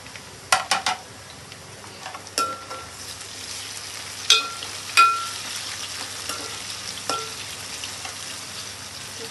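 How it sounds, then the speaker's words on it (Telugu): Tomatoes and raw shrimp fry in a pan for mixed fried rice, a soft, low sizzle with occasional sharp clinks and scrapes from stirring, fairly quiet overall. "టమాటాలు వేగేటప్పుడే మనం కొన్ని పచ్చిరొయ్యలు వేసుకున్నాం."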